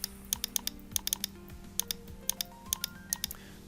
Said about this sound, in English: So I'm now going to hit on Control S on my keyboard to save that.